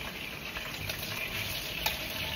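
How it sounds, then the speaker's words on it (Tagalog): Potatoes, carrots and saba banana frying in hot oil for pochero, a faint steady sizzle and crackle close by, alone without talk. "So next natin i-prito is yung ating patatas, carrots at yung ating saging taba."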